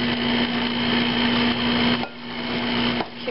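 An electric hand mixer whirring through banana cake batter, with a steady close hum and a couple of brief dips as the beaters shift.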